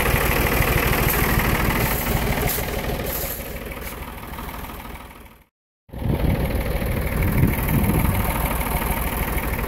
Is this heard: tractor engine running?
yes